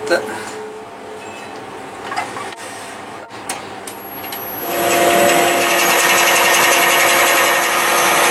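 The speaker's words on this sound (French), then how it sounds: "Je crois que je vais plutôt percer à 60 mm." Power drill boring into cherry wood, starting after a few knocks and clicks with a sharp rising whine, then a loud steady high-pitched grind that holds to the end, with speech earlier in the clip.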